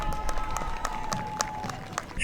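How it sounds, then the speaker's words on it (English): Spectators at the 2014 Salisbury Jaycees Christmas Parade clap outdoors, a scattered moderate applause with sharp individual claps under a faint sustained tone and a voice speaking over the crowd. "Let's give them all a big round of applause and welcome them here."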